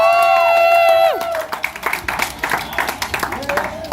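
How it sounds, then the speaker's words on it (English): A held tone cuts off as a crowd at a prom superlatives award ceremony breaks into clapping, a dense patter of many hands that continues, moderately loud and close, without speech. "Let's give her a round of applause."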